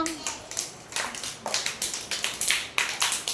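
Children clap their hands in a steady run of quick, bright claps during a fruit-name game, loud and close, with a voice briefly heard at the start.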